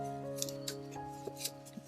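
Scissors snip through paper for a Victorian-style journal page, several crisp, quiet cuts in quick succession close by, over a faint steady background hum.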